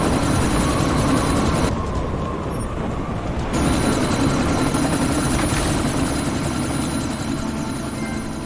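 A helicopter in the video game Deus Ex: Mankind Divided, set in a sandstorm, with a loud, steady rotor roar and engine drone throughout, dipping briefly midway before resuming at full strength.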